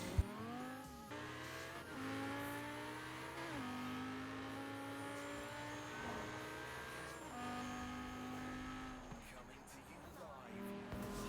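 A BMW car engine in a video game roars steadily at high revs, its pitch climbing and dropping with gear shifts, loud and continuous with no talking.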